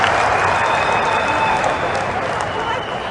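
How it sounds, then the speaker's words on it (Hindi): Audience applause and crowd noise at a Hindi political rally, a dense, steady wash of clapping that stays loud throughout and eases slightly toward the end. "ठोको ठोको ताली ठोको"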